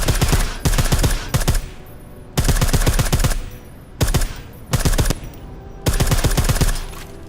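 Gunfire from the video game Deus Ex: Mankind Divided comes in rapid automatic bursts as a player shoots at targets. About five loud bursts are separated by short pauses.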